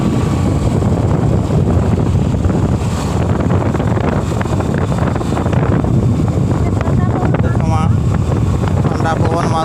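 Cold wind buffets the microphone at Hirakud dam, a steady loud roaring rumble that fills the whole stretch, with faint voices and chatter mixed in beneath it.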